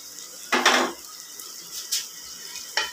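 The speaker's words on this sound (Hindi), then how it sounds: "इस तरह से हम चम्मच चलाएंगे, हल्के हाथों से हम चम्मच चलाएंगे" A spoon stirs bhindi chicken curry in a pot. Three distinct scraping strokes land with quiet gaps between them, the first the longest and loudest, against a soft background with no talk.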